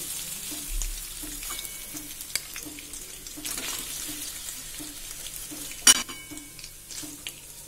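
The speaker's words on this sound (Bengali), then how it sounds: "হালকা ভাজা হয়ে গেছে, এবার আমি তুলে নিচ্ছি।" Paneer fries lightly in oil in a pan, a steady soft sizzle running throughout with faint utensil clinks and one sharp knock near the end.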